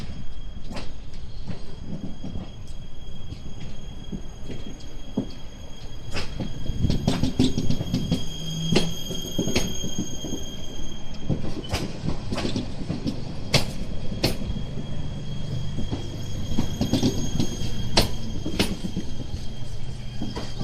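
A train creeps slowly through Łowicz Główny station over worn track and a low-speed switch, giving a steady rolling rumble with rhythmic wheel clicks and occasional high metallic squeals, fairly close throughout.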